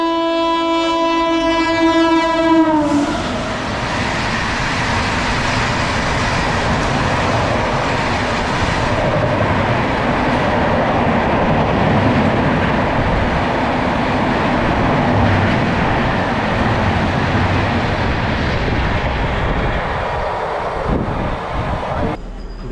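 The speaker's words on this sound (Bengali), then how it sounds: "এখন একটা এক্সপ্রেস ট্রেন আছে, চলো সেটা এখন কভার করি।" An Indian Railways express train hauled by a WAP-7 or WAP-5 electric locomotive rushes past at about 130 km/h. A short horn blast opens, then a loud, sustained roar of wheels and carriages continues close by.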